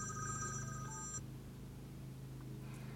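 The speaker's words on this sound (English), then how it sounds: "As you can see, it's ringing." A phone call ringing through the radio of a Toyota RAV fitted with a Bluetooth car kit: steady repeating electronic ring tones for about a second over a low cabin hum, then only the hum.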